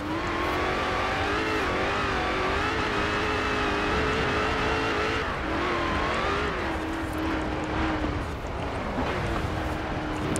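A 2018 Dodge Challenger SRT Demon driven in the video game Forza Horizon 4, its engine droning loud and steady at high revs with a rising and falling whine as it shifts and accelerates, no talk over it.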